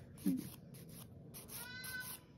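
A cat during a nail salon appointment gives a short faint meow near the start, followed by softer squeaky vocal sounds, heard close but quiet over low room noise.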